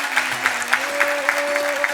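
Steady applause from an awards-ceremony crowd, many hands clapping loudly together over a faint electronic hum, with no voices emerging above the clapping.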